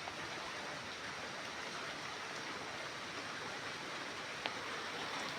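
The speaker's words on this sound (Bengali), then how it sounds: "অনেকটাই বৃষ্টি হচ্ছে গো বাইরে।" Heavy rain pours outside in a steady, dense wash of noise that fills the whole stretch evenly, with a single faint tap standing out near the end.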